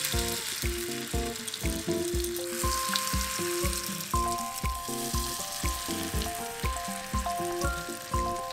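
Corn cakes made from stone-ground corn fry in a pan with a steady, close sizzle and crackle. A faint sustained tonal hum sits underneath, and no one speaks.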